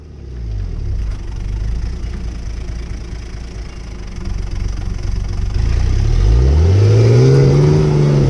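A 4x4 engine idles, then revs hard and loud as its tyre spins and burns out on a tree root, the pitch climbing and sweeping through the last few seconds.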